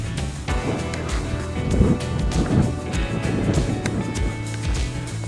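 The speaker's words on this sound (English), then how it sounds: "Pretty windy up here" Steady wind rumbles and buffets against the microphone, a continuous low roar with gusty swells and no one speaking.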